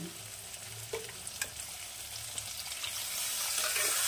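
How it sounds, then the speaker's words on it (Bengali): Spice paste with tomato sizzles and fries in a pan after a splash of water goes in, a steady close crackle with stirring scrapes that grows louder and hissier toward the end. "এখনই পুরো জলটা দেবো না, জাস্ট মশলাটা কষানোর জন্য দিয়ে দিলাম একটু জল।"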